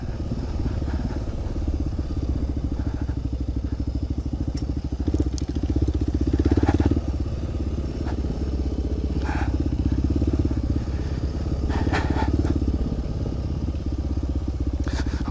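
A motorcycle rides along a sandy trail, its engine holding a constant loud drone while tires crunch and scatter sand and gravel, with brief clatters and rattles layered on top.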